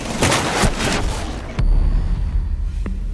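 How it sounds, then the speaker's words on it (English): Vulcan's explosive blast in the Rainbow Six Siege game: a rough gunfire-like rumble, then a single heavy boom that rolls and lingers loudly to the end. "A well-timed Vulcan explosion can be the difference between lighting up the scoreboard or going down in flames."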